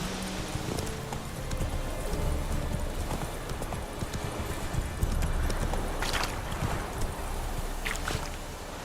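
Horse hooves galloping in Witcher 3, a steady rapid clip-clop of hoofbeats over an outdoor game soundscape, loud and continuous with no pause.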